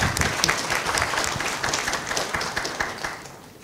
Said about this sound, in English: Don't you want to give a round of applause?